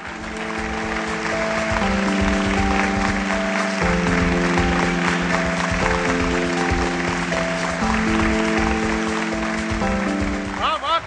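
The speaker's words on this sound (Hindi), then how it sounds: "आपकी बहुत सी तालियां होनी चाहिए।" Audience applause greets a poet at a mushaira, a dense steady patter sustained for about eleven seconds, layered under held musical tones, with a brief flourish at the end.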